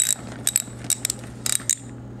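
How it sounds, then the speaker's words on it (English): A ratchet loosening the wheel nuts on a bicycle gives bursts of close, crisp metallic clicking, several short runs of rapid pawl ticks with brief pauses between them over a low steady hum. "Sure the ratchet's going the right way."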